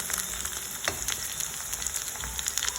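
Plantain slices frying in plenty of oil in a pot over the fire, giving a continuous crackling sizzle with small pops and occasional spatters, heard up close without speech.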